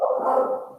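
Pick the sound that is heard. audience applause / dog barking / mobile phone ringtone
dog barking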